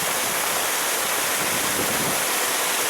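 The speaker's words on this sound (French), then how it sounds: "je vous emmène découvrir les cascades et les torrents de Chartreuse" Waterfalls and mountain torrents in the Chartreuse massif roar in a loud, continuous, dense rush of falling water, steady throughout with no voices.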